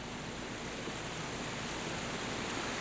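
Spring Creek waterfall in Nevada's Ruby Mountains, fed by July snowmelt, pours as a steady broadband roar of rushing water, constant and fairly close, with no voices over it.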